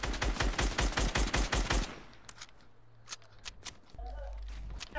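Rapid automatic gunfire in the Fortnite video game rattles in a dense, even burst for almost two seconds, followed by a few sparser shots under players' voices.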